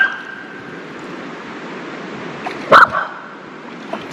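A dog gives a short burst of barks and yips beside a river along the Chattooga River Trail, one sharp cluster near the end, while steady rushing water and surf-like noise fill the background.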